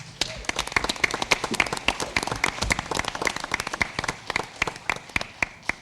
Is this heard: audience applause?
yes